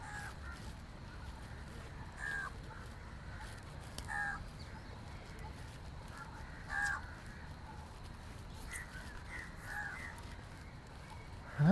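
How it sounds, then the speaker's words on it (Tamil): Crows caw in a city park in Colombo, separate hoarse calls every few seconds at middle distance over a steady murmur of outdoor background noise. "காகம் நிற்குது நிறைய"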